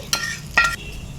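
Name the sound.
curry leaves frying in oil tempering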